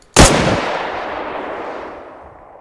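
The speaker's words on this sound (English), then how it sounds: "The weapon sounds are a little bit over the top, I find, with JSRS 4 Apex." A single loud gunshot in ArmA 3 with the JSRS 4 Apex sound mod: a sharp crack followed by a long rolling echo that fades over two seconds.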